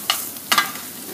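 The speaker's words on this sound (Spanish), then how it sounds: "Vaciamos un poquito de aceite en una sartén, así, poquito, más o menos, y vaciamos nuestras 2 tazas de arroz" Two cups of rice fry in a little oil in a pan, with a brief soft sizzle and a couple of quick stirring scrapes heard close by.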